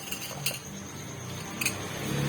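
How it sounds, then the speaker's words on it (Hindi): A metal spoon clinks and scrapes against a bowl while mixing chicken shami kabab ingredients, with two brief sharp clinks standing out over a low steady background, close and fairly quiet. "चम्मच की मदद से हम इनको मिक्स कर लेते हैं।"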